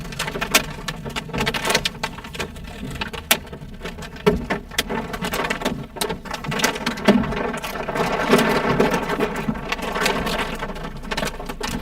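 Storm rain pelting a car parked at a gas station during a thunderstorm, a dense, loud drumming of drops on the roof and windows with irregular sharper impacts throughout.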